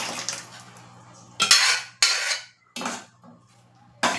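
Dal tipped into a pan of spiced chilli tempering and mixed for dal fry, heard as several loud, separate metal spoon clanks and scrapes against the pan with short quiet gaps between.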